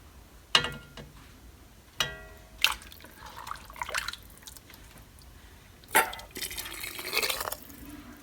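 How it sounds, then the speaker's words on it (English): Liquid ham and bean soup ladled into canning jars, with scattered clinks and splashy pours heard close by and fairly quiet, in a sparse irregular rhythm. "now I'm going to just keep scooping with the more liquid portion until we're all finished"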